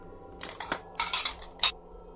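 Dishes clink and rattle as they are picked up in a horror video game, several short bright clatters in quick succession followed by one sharp final clink.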